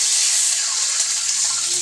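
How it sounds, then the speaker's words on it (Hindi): Water is poured into a cooking pan holding green chillies and chicken, a steady broadband rush of liquid lasting about two seconds at close range, with no talk over it. "मैंने डाल दी इसके अंदर पानी"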